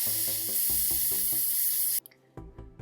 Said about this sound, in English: we're going to spray a little bit on the base here, make sure we're getting some paint coming out